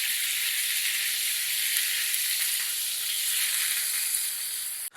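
Chicken cubes sauté in a hot pan, giving off a steady, dense sizzle with a bright hissing edge. The frying holds even and fairly loud, with no voices, then cuts off sharply at the very end.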